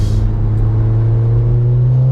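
Audi 8P S3 with a manual gearbox and four-wheel drive cruises down country B roads, its engine a steady, loud low drone heard from inside the car, with no talking.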